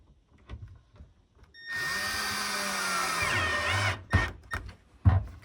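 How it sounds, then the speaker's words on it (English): A power drill drives a screw into a kitchen cabinet while a roll-out shelf glide is mounted, giving one steady whirring burst of about two seconds that winds down, followed by a few short clicks and knocks close by. "We're going to get that bottom screw ran in."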